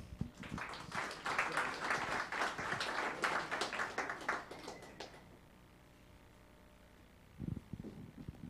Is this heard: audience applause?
yes